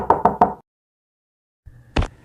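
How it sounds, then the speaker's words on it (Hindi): Three quick knocks strike a door, then silence, followed by a faint rumble and one more single knock, a spooky horror-story effect. "तभी अचानक किसी ने दरवाजा खटखटाया"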